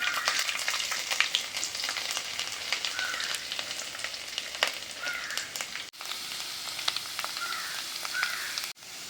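Garlic and ginger frying in hot oil with mustard seeds and curry leaves, a steady dense sizzle with crackling pops and brief stirring scrapes, close and continuous for the whole stretch, with no talk.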